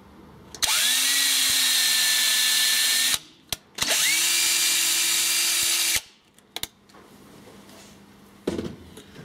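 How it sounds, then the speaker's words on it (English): A drill drives a 3mm tap to cut thread in a standoff, whining loudly in two separate runs that each spin up to a high steady pitch, then stop, with brief clicks and handling noise between and after. "run a 3mm tap through here so that we've got the thread for the screws to go in later, and I do that with a drill and a tap."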